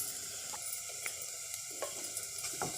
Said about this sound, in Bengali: এখন আমি কিছুটা হলুদ গুঁড়ো দিয়ে দেবো, 1 চামচ হলুদ গুঁড়ো দিয়ে দেবো তেলের মধ্যে। তেলের মধ্যে গুঁড়ো লঙ্কা দিয়ে দেবো 2 চামচ